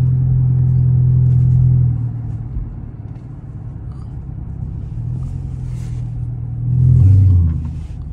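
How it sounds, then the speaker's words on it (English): Dodge Charger R/T V8 engine with a mid-muffler delete, a loud close-up low rumble that swells, settles into a steady idle, then surges again briefly near the end. "that muffler delete just made it like 5 times louder"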